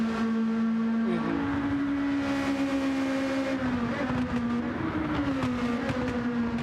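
A Honda S2000 four-cylinder engine screams at high revs near 9,000 RPM during a time-attack lap at Suzuka, a loud, sustained whine that holds and shifts pitch slightly, close and continuous without talk.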